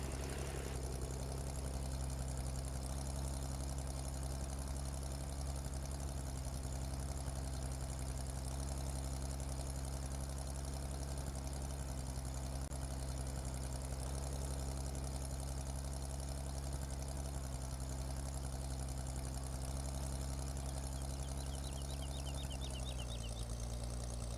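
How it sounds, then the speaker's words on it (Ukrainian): A tractor engine from Farming Simulator 2015 drones in a steady, close, low idle-like hum with a faint knocking texture, holding constant and then shifting pitch near the end. "Так, трактор вже активно працює, вже назад їде."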